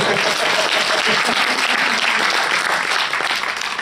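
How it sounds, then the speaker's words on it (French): Sustained audience applause at a French film premiere, a dense steady wash of many clapping hands filling the room for several seconds, loud and continuous with faint voices beneath. "On applaudit Camille."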